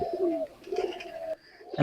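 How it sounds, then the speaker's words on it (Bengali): A pigeon coos up close, low throaty calls rolling in two short bursts with a brief pause between them. "তো এখানে আবার কবুতর বলে।"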